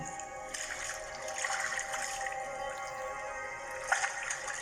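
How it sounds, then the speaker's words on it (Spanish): Water from the Jordan River as people are baptized, a steady splashing and trickling wash with a few brief louder splashes, heard close and fairly even throughout. "Ahí está Juan bautizando a las personas en el río Jordán"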